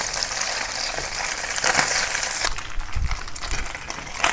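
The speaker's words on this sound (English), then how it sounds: "then pan fry the tofu on both" Tofu pan-fries over medium to high heat for a Chinese minced chicken and tofu dish, a dense, continuous hiss of oil that shifts in tone partway through, with a few louder crackles near the end.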